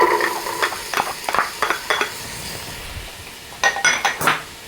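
Onion and garlic cook in a heated pan, light sizzling under a series of spatula scrapes and stirring clinks against the pan, close by, with no talking.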